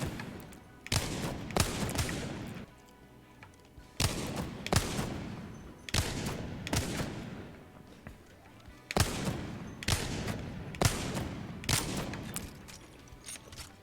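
A Wingman pistol fires at the Apex Legends firing range in sharp, loud shots grouped in quick clusters of two or three. Short pauses separate the groups, and each shot leaves a brief echoing tail.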